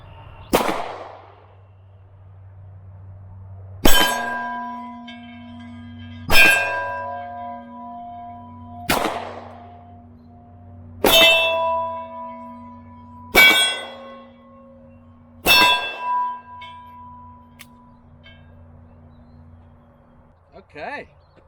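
Ruger P95 pistol shots fired outdoors at a target 30 to 40 yards away, six sharp, loud reports spaced a couple of seconds apart, each followed by a ringing clang from the distant steel.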